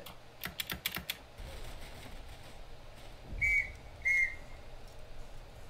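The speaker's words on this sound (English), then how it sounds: "I'm trying to get the right whistle." Two short, shrill whistle blasts sound in a Roblox trench warfare game, following a burst of quick keyboard typing.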